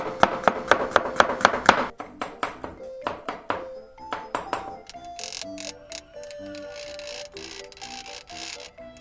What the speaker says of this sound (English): So I use this one garlic and I chop it.